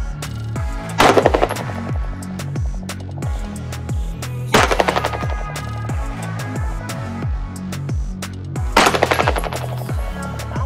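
Three bursts of rapid rifle fire at a steel target 100 yards away, each volley loud and close, with sharp echoing cracks and rolling reverberation between bursts.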